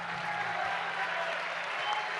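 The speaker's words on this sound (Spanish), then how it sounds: "No hablé y ya tuve 3 aplausos" An audience in an auditorium at a provincial congress closing session applauds steadily, a dense, even wash of clapping that holds for the whole stretch.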